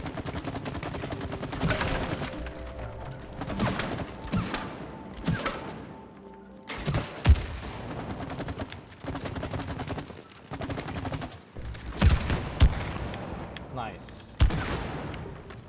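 Gunfire from a shooting-targets mini game in It Takes Two, bursts of rapid shots and sharp thuds recurring in clusters across the clip, mixed with game music and effects, with people talking over it.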